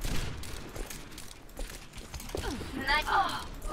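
Gunfire in the video game Overwatch: scattered sharp shots and clicks run through busy match noise, moderately loud, with a voice in the background.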